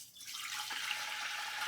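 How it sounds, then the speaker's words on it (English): Warm water pours steadily into a bowl while making pizza dough, a continuous close splashing stream that starts softly and fills out, with no talking. "So we're going to put our water in there."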